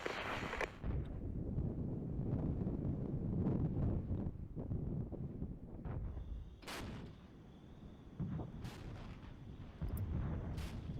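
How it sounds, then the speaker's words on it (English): Artillery fire from the wartime strategy game Regiments, deep booms and rumbling distant blasts rolling through a windy, low-level background, several impacts spread across the stretch. "Our own artillery is coming in."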